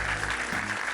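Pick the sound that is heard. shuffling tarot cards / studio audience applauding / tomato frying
studio audience applauding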